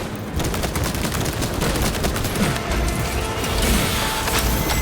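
Dense, continuous gunfire in Warhammer 40k Space Marine 2 battle, rapid overlapping shots and bursts forming a loud, unbroken barrage with no talking.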